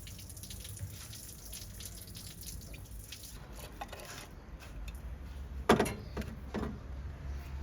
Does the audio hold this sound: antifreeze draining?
yes